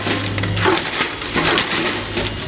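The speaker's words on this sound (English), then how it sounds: "smashed them with my dad's ball-peen hammer" Radio vacuum tubes are smashed with a ball-peen hammer, giving a dense, loud crunching and splintering of glass and metal that continues with several overlapping breaks throughout.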